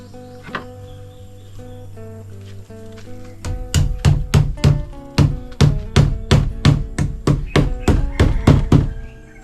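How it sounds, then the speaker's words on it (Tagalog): A hammer strikes nails into wood while a chicken coop is built, about fifteen sharp, fairly close blows in a quick, mostly regular rhythm after a few quieter seconds, with a low steady hum underneath. "Ito na yung martilyo natin."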